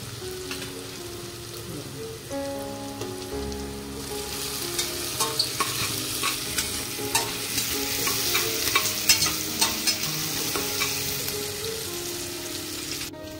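Ginger-garlic paste fries in a pan with softened tomato and onion, a close, bubbling sizzle that grows louder and brighter partway through, punctuated by regular spatula stirring knocks and scrapes.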